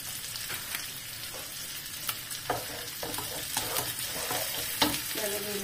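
Egg sizzles and fries in a pan for fried rice, a steady crackling hiss with scattered pops and spatula scrapes close by, no talking.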